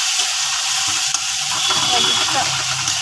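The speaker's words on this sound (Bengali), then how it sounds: "তা আমি ভালো করে ভেজে দিচ্ছি" Onion and tomato frying in hot oil, a steady broadband sizzle with soft crackles and occasional stirring, close and continuous throughout.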